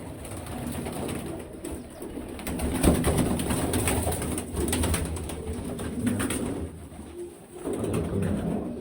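Pigeons coo repeatedly in soft, low throaty phrases, several birds overlapping close by, with a steady background hum.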